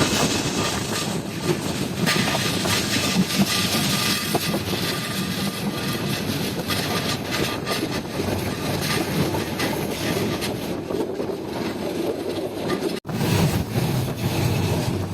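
Rangpur Express rolls along rails on a Bangladeshi line, heard from inside as a loud, continuous rumble and rattle with faint rhythmic clatter and one brief dropout near the end, no talking.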